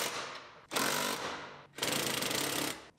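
Power tool bursts while bolting a steering column into a Silverado cab during a collision rebuild, two long loud rattling impact-driver runs separated by a brief pause.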